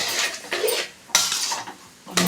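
A metal spoon stirring and mixing lemon rice in a pot, giving a few distinct scraping and clinking strokes against the vessel with short pauses between them, close and clear.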